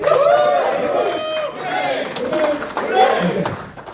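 A crowd at an award ceremony claps and cheers together in a dense, loud burst, with voices calling out inside the applause.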